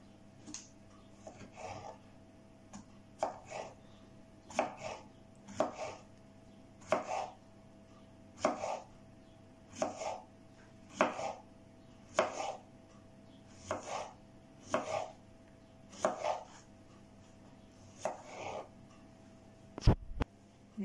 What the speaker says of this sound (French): je vais découper des tranches fines,